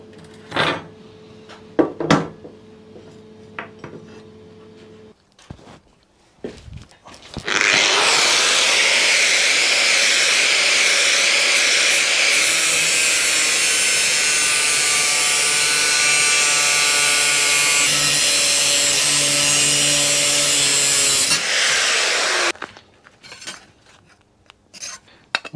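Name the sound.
cutting 40mm strips with a tool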